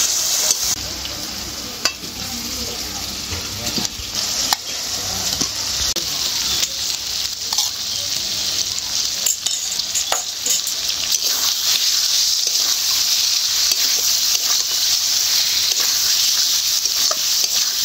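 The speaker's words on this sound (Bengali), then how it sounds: "এইবারে আলুর সাথে মশলাটা খুব ভালো করে একটু কষিয়ে নেব" Fried potatoes sautéed with spices in hot oil for a Bengali paneer curry, giving a steady, loud sizzle throughout with repeated scraping and stirring strokes, with no talking.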